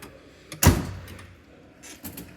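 Drawer of a mechanic's rolling toolbox sliding open with a sharp metallic clunk, then fading, followed by a softer rattle of tools a moment later.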